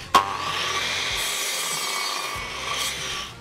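A miter saw cuts through a wooden board for a homemade miter box, one steady loud buzzing cut with a sharp start, heard up close with nobody talking.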